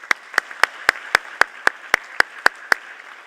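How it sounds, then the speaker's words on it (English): About a dozen evenly spaced claps ring out sharply and close at a university honors convocation, a slow single pair of hands rather than full crowd applause. "Please, let's give all of our honorees another round of applause."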